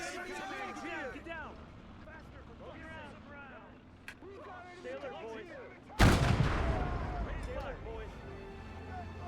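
Gunfire and a 57mm gun sound in the Gates of Hell war game: scattered shots under excited talk, then a sudden loud cannon blast with a long rumbling decay.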